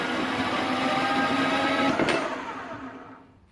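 Threaded rod, also called all thread, being cut down to length with a power tool, giving a steady loud whining grind that holds for about two seconds and then winds down and fades as the cut finishes.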